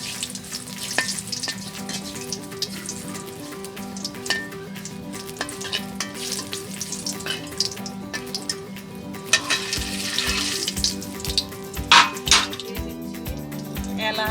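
Dried red chilies fry in a pan for a village-style jackfruit curry, giving steady close sizzling throughout, stirring scrapes, and a few clinks of a utensil against the pan near the end.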